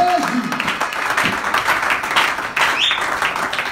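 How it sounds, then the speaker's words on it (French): A church congregation claps in a steady, dense wash of applause that fills the room at moderate loudness, with a few voices calling out over it. "Est-ce que nous pouvons applaudir la main?"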